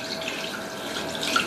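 Water from a kettle pours into a pot holding chicken to make stock for chicken pulao, a steady splashing flow heard close and clear without voices.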